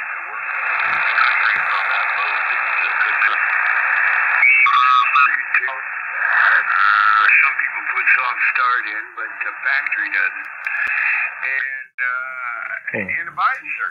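Xiegu X6100 radio receiving with noise reduction off, a band-limited hiss carrying warbling, distorted voices from a transmission, loud and continuous with brief dips and squeals near the end.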